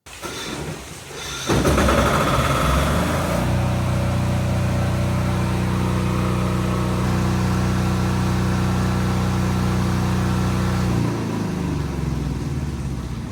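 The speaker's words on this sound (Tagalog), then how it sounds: "start natin yung generator natin sa pamamagitan ng remote control" A Philking PK10000STRA 10 kVA diesel generator started by remote control: a short quiet lead-in, then the engine catches and settles into a steady, loud droning hum that shifts slightly late on.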